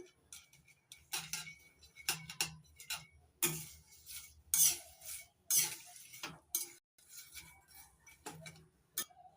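A spoon stirs camphor into warm homemade massage oil in a metal pot, giving irregular close clinks and scrapes against the metal with quiet gaps between them.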